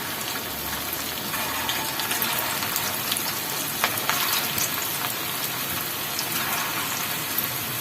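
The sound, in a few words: deep frying minced meat kofta balls in hot oil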